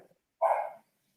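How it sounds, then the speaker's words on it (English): A house dog gives a single short bark at someone arriving at the front door, heard indoors at moderate distance, with a faint murmur just before it. "No, that's our dog. I think someone just came up to the front door."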